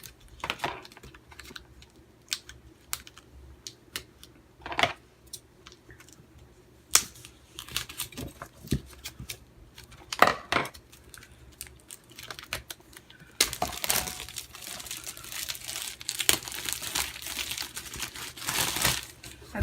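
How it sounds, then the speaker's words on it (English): Planner packaging is cut open, with scattered sharp snips and crinkling plastic and paper across a quiet room, growing into denser rustling toward the end. "Let's cut this open."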